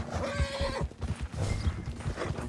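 A horse in Red Dead Redemption 2 whinnies over steady hoofbeats clip-clopping at a gallop, loud and close, with a mixed game-like backdrop.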